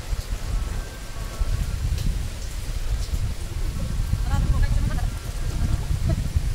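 Rain falls steadily outdoors as a continuous dense patter and hiss, moderately loud and close, with faint faraway background sounds mixed in.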